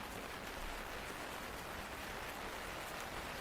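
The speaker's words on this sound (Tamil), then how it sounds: "வெளியே மழை பெய்கிறது" Steady rain falls outside in a Tamil 3D historical drama, a dense even hiss of drops heard alone at low level throughout.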